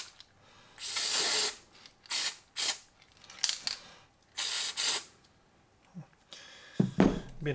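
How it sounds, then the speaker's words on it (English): Several short hissing bursts from an aerosol can sprayed onto a turbo manifold, in quick separate puffs with brief pauses, close up, ending with a couple of light clicks. "Just going to carefully spray a little bit."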